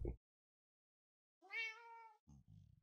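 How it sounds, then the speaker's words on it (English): A cat meows in the Minecraft video game, one drawn-out harmonic call standing alone, followed by short low thumps and rumbling game sounds. "I'm not sure why I'm hearing a cat"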